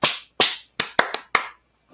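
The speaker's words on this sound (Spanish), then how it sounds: "Gracias por esos aplausos." A few separate hand claps, sharp and irregular, spaced apart in a quiet space, at a folk dance competition event.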